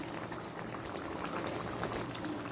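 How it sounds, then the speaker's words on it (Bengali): Chicken curry with fried spices in a pot coming to a boil, a steady dense bubbling and simmering hiss that stays even and close throughout, with no voices. "মাংসটা ফুটতে শুরু করে দিয়েছে"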